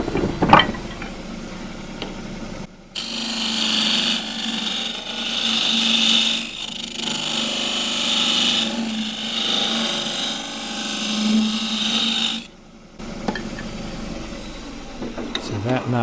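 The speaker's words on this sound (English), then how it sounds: "Square and scraper for that." Scraper cutting a fiddleback eucalypt display bowl on a wood lathe, a loud sustained rasping hum lasting about ten seconds, framed by quieter lathe running and brief handling noises at the start and end.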